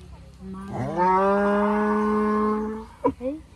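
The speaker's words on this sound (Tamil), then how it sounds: "அப்போ மாடு கூப்பிடுது அவங்க அம்மாவை." A cow gives one long, loud moo lasting a couple of seconds, calling for her calf, followed by a short, lower grunting call.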